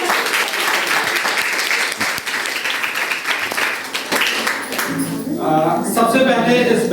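On stage, an audience gives loud, dense applause for several seconds, then it drops away and a voice takes over over a tonal background.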